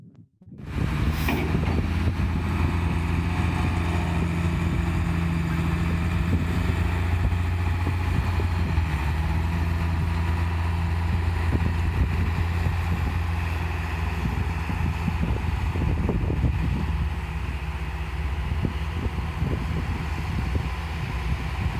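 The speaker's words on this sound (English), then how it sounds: "we use the tractor to run back and forth on that pile to pack the corn down" A heavy diesel tractor engine drones continuously at close range, rumbling and fairly loud as it drives back and forth packing a corn silage pile, with wind buffeting the microphone and no voices.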